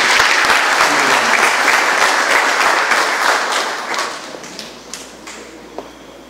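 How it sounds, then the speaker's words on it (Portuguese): Loud, dense applause breaks out from the audience at a collective wedding ceremony, then fades after about four seconds into a few scattered final claps. "Pode aplaudir bem forte."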